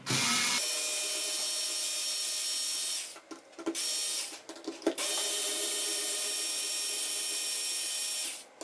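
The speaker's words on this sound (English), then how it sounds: "So I'm going to go ahead and unscrew these now." Electric screwdriver whirring steadily while unscrewing screws from an Assassin's Creed hidden blade, a near, continuous motor drone broken by a few seconds of short stops and restarts midway.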